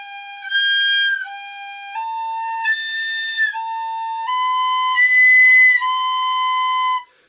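An O'Brien Improved tin whistle plays a slow upper-register exercise, clear sustained notes stepping upward with brief breaks between phrases, close and bright with no talking.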